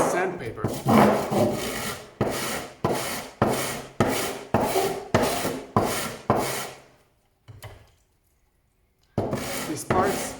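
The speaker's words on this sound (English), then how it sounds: "go ahead and start moving it across this sandpaper" A 3D-printed part for a GI Joe Classified Skystriker model is rubbed back and forth across wet sandpaper in steady rasping strokes, about ten passes with a brief pause before the last ones, close and alone.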